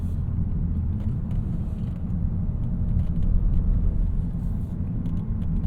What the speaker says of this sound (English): A little bit too deep for what I think this exhaust actually sounds like.